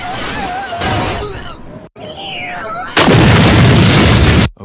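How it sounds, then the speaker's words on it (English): A video game summon attack finishes with a loud explosive boom, preceded by whooshing effects, with a heavy burst of noise near the end that cuts off sharply. "why do some of the summons end with an explosion?"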